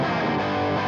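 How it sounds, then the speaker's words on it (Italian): An electric guitar played through AmpliTube 5 amp simulation gives a brief, steady, thick distorted tone, dark and sustained, with no other sounds. "Questo invece è il suono di Amplitube"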